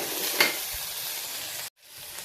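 Chopped onions fry in oil with curry leaves, salt and turmeric, giving a steady, close, loud sizzle that cuts off briefly near the end and then resumes more softly.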